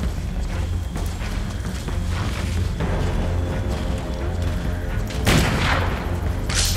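Gunshots in the video game Turok, steady booming fire layered over a dense background rumble, with one louder blast near the end.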